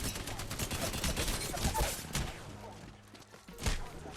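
Rapid bursts of gunfire from the video game Apex Legends crackle in dense volleys, fading briefly before a final sharp shot near the end.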